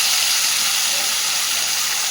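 Spice paste hitting hot oil in a pan with a dried red chilli, for a Chitol fish curry, giving a steady loud broadband sizzle and hiss that holds for about two seconds with no talk.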